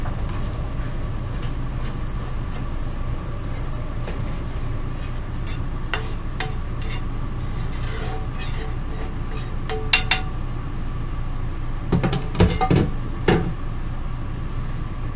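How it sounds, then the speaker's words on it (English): Food is mixed in a casserole dish, with a utensil scraping and clicking against it in scattered taps over a steady background, growing busier toward the end. "I'm going to go ahead and mix it up in the casserole dish"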